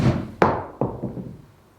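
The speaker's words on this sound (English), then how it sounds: "Now that was the first shot with the Cobra one length hybrid" A Cobra Speedzone one length hybrid strikes a golf ball in a sharp, close thunk, followed by a second lighter knock and fading echoes.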